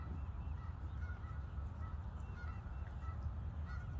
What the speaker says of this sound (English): The geese are chatty this morning.